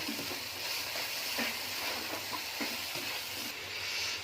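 Spices with coriander powder fry in a pan with a soft, steady sizzle and occasional stirring scrapes, heard quietly and without talk.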